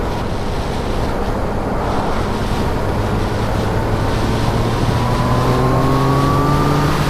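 A Yamaha FZ-09 motorcycle engine drones under heavy wind rush while riding, its pitch rising steadily as it accelerates, loud and close throughout.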